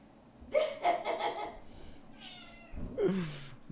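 A pet cat lets out a couple of close, wavering meows, the first with a rising drawn-out tone and a second longer yowl after a pause, with a soft vocal sound between.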